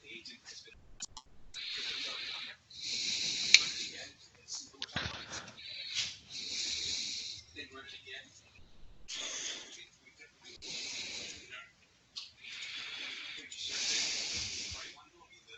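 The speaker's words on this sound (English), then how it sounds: "Breathing pretty loud there" Loud, close breathing straight into a microphone, repeated hissy inhales and exhales in a slow rhythm of roughly a dozen breaths, with faint talk in the gaps.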